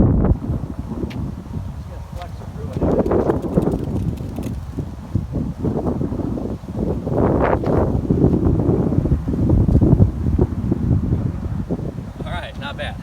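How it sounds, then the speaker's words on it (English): Strong gusts of wind buffet the microphone on an outdoor disc golf course, a loud rough rumble that swells and eases throughout, with a person speaking briefly under it. "it's a little bit windy out"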